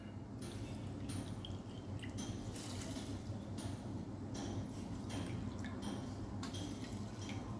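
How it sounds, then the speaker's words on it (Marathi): Water is poured into a pressure cooker container holding rice for rice kheer, a steady splashing, trickling flow with small drips, close and moderately loud, with no talk. "याच्यामध्ये 2 वाट्या पाणी टाकूया."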